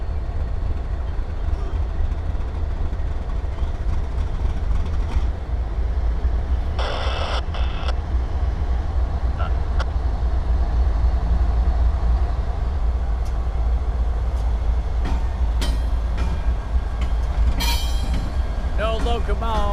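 Locomotive rumbling steadily through the Norfolk Southern DeButts rail yard, a continuous low heavy drone with a brief hiss and occasional metallic squeals, near and loud, with people talking in places.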